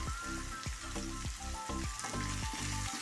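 A salted vegetable stir-fry is stirred in a pan for a Kerala mezhukkupuratti, with steady sizzling broken by repeated rhythmic stirring strokes and a low tonal hum underneath.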